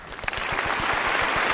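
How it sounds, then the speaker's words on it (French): Wedding guests applauding at a ceremony, a brisk run of many hands clapping in steady, even rhythm, close and lively without talk. "une fois que c'est fait, le monde va applaudir"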